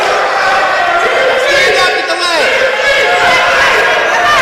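Crowd noise at a high school wrestling match, a loud roar with yelling voices swelling over the gym, steady throughout with shouts rising above it.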